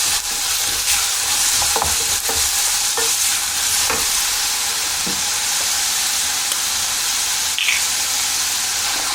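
Sauce for green asparagus and scallops sweating in a pan, a steady loud sizzle with occasional stirring scrapes and clinks, no voices.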